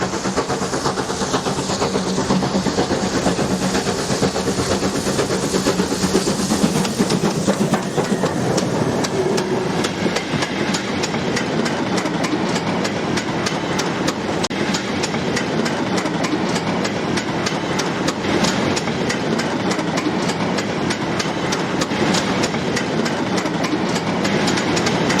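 A steam train runs in the Train Simulator video game with a steady rolling rumble and a continuous clickety-clack of wheels over rail joints. The sound holds constant throughout, with no voices.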